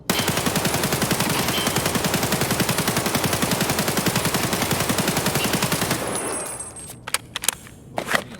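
Sustained rapid automatic assault rifle fire in a video game, a dense unbroken burst for about six seconds that stops abruptly, followed by a few scattered single shots and clatter.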